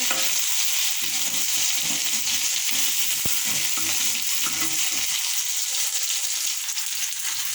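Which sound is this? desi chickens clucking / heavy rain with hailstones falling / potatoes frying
potatoes frying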